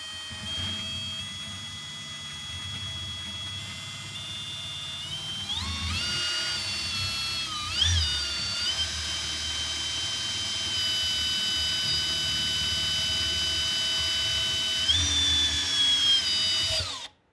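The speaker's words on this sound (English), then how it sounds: "So we just used our 3/8 inch drill bit and got our hole in there." A power drill with a 3/8 inch bit bores through smooth plastic on a budget detail sprayer, whining steadily and loudly for most of the stretch, its pitch rising as it speeds up and shifting as the bit bites.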